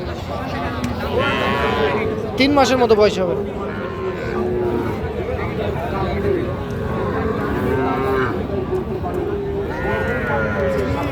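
Calves moo several times at a cattle market amid people talking nearby, with a louder bovine call in the middle and others scattered through the conversation.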